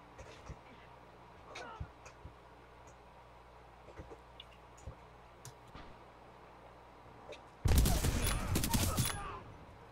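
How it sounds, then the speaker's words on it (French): Shotgun blasts in the shooter game Titanfall 2 erupt as a loud, sudden burst of rapid booming shots near the end, after a stretch of quieter in-game clicks and faint gunfire. "Ah, son shotgun est plus fort que le mien."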